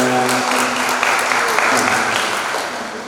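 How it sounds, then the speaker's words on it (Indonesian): Applause breaks out among the audience at a children's church quiz final, continuous and fairly loud, with a voice briefly audible at the start before the clapping takes over and slowly tapers. "Oke, tepuk tangan"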